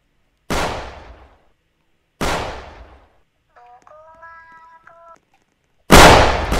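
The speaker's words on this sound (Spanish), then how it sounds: "Nada más escuchar los cohetes." Fireworks go off in a Squid Game-themed video game, three sharp booming blasts with decaying rumble, separated by silence and a short stepped electronic tone between them.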